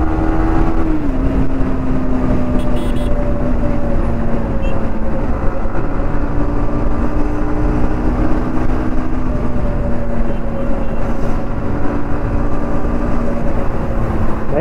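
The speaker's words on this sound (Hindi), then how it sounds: "गाड़ी में ना व्हील कवर लगाने के बाद ना एक अलग सा साउंड आ रहा है शू करके" A Yamaha MT-15 V2 BS6 motorcycle with wheel covers fitted, ridden hard at high RPM, gives a steady loud engine drone with rising and falling tonal whine and constant wind rush throughout.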